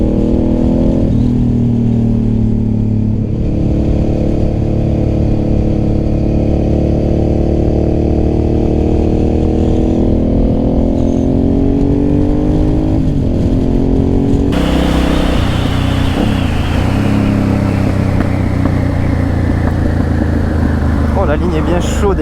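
A Suzuki SV650S motorcycle with a hot exhaust revs and idles up close at a fuel station. The throttle rises and falls over a constant rumble, then a sharper, louder burst of revving follows.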